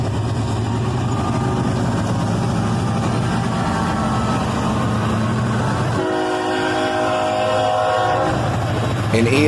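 One long sustained horn blast from a freight locomotive as an ES44DC and an AC44CW lead a southbound manifest train, loud and close over the heavy rumble of the passing train.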